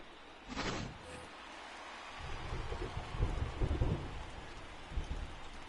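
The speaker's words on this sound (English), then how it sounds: "the rain starting to intensify here. It's coming down a little heavier now." Heavy rain in the MLB The Show 20 baseball game, a dense steady hiss with low rumbling swells like distant thunder, growing somewhat heavier partway through, with no talk.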